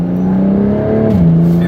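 A BMW 135i with an MHD burble tune sends out a loud, steady exhaust drone at close range, and the engine note dips in pitch partway through.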